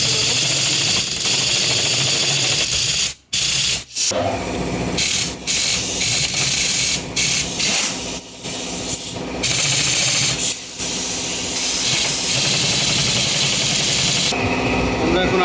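Power tool whirring and rubbing continuously as it tightens nuts and a washer on the exhaust of a Yamaha R15 motorcycle. The grinding drone stays loud and close, broken by a couple of brief pauses, with a voice speaking faintly underneath.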